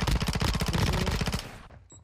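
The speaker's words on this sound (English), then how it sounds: "Wait, where am I getting shot from?" Rapid automatic gunfire in the video game Warzone 2 rattles out as a loud, close burst of evenly spaced shots, then stops abruptly and leaves a short fading tail.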